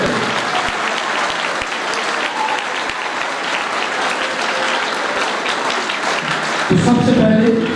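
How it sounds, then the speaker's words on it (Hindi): Audience at a church program for students in Shantinagar, Pakistan, claps together in sustained applause, with a voice or louder burst coming in near the end. "हम खुदा का शुक्र अदा करते हुए तालियां बजाएंगे"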